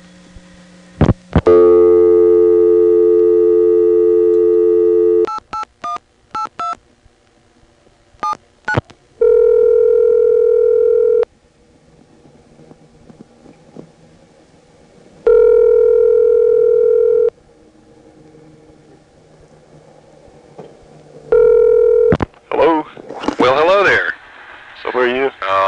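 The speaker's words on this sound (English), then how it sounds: "the line associated with this payphone is going to go back to dial tone" A steady telephone dial tone from a 1986 private payphone line sounds in long stretches, broken by bursts of dialing tones and clicks, with a voice speaking near the end.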